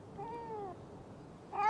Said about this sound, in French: on va aller chercher ton chat dans cet arbre